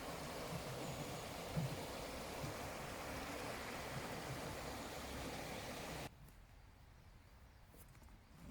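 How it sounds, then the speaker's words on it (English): A forest stream runs with steady, soft continuous water noise beside a campsite, fairly faint and unbroken, dropping to a quieter level near the end. "Nice running water."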